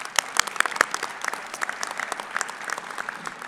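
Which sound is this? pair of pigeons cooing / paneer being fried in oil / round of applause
round of applause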